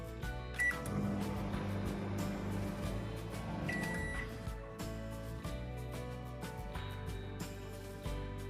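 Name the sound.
microwave oven cooking field beans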